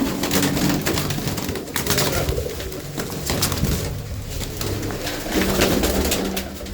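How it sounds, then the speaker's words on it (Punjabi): Several pigeons coo close by in a loft, overlapping soft throaty calls repeating steadily with rustling and background noise, no voices. "ਆ ਇੱਕ ਕਬੂਤਰੀ ਮੈਂ ਤੁਹਾਨੂੰ ਫੜ ਕੇ ਦਿਖਾਉਣਾ"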